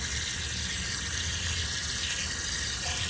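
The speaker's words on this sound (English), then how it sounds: "I'm gonna just do this from the hose bib and just rinse them off." Garden hose tap water spraying from a hose bib to rinse aFe air filters, a steady continuous gushing wash with no voices.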